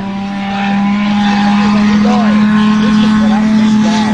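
Race cars, including an Escort, a Sentra and a Jimmy with a 4.3 engine, compete in a field race. Loud engines drone steadily, rising in pitch as they rev, with people talking over the noise.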